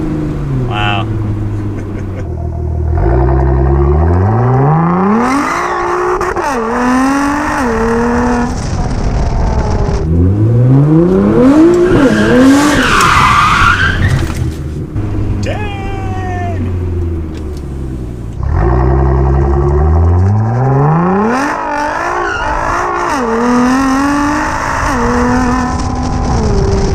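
An AWD R35 Nissan GT-R revs hard and repeatedly, its engine pitch climbing and falling through gears, with a squealing tire passage in the middle, all heard from close range with a voice talking over it.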